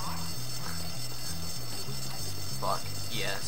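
In the Bully Scholarship Edition video game, a school fire alarm rings in a fast repeating two-tone electronic pattern, loud and steady, while voices and game sounds come through faintly underneath.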